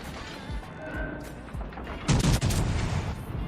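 Battleship guns fire in a World of Warships Legends naval battle, with several heavy booms and cracks, the loudest burst near the end, over a constant rumble of battle noise.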